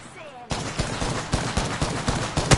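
Rapid gunfire bursts erupt in the Apex Legends video game, loud repeated shots in quick succession after a brief quiet start.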